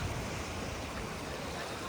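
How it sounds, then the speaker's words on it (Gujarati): Dense, steady hiss of rain during a storm fills the scene evenly, a continuous broadband wash with no distinct drops or voices standing out. "પાછો વરસાદ ચાલુ છે"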